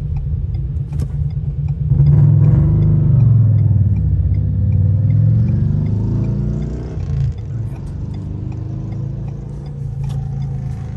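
A 2023 Ford Expedition XLT SUV driving in city traffic, a steady low engine rumble and road noise from inside the cabin that swells as it accelerates, then settles to a calmer hum.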